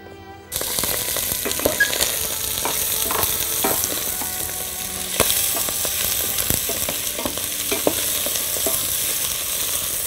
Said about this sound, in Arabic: هزود معاه شويه زيت وهحط اللحمه تتشوح